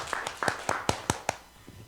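Several rhythmic hand claps ring out during a church worship service, about six sharp, evenly spaced claps at moderate volume, like a small group clapping together, then stopping.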